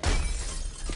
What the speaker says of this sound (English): Stop breaking glass.